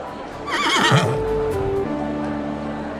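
A horse gives one loud, close whinny lasting about a second, its pitch quavering and falling, followed by a steady tonal hum as the sound fades.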